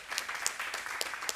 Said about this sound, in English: Can we clap for that lady, whoever she is?